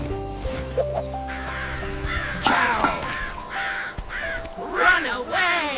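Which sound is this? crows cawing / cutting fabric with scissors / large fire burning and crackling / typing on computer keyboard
crows cawing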